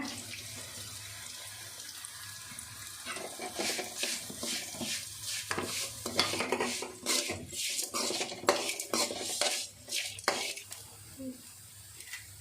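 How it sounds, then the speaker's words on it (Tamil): Grated coconut gets stirred into a pan for coconut rice, with busy close clattering of a spoon against metal and scraping strokes that grow louder and more frequent midway, under faint background noise. "கருவேப்பிலை சேர்த்துக்கலாங்க துருவி வச்ச தேங்காய் சேர்த்துக்கலாங்க"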